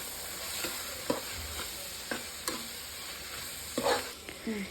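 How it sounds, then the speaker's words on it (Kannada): Spice powder fried in a pan for dal khichdi crackles with a continuous close sizzle, broken by several sharp spatula scrapes and stirs. "ಈಗಲೂ ಸಹ ಚೆನ್ನಾಗಿ ನೀವು ಫ್ರೈ ಮಾಡ್ಕೋಬೇಕು"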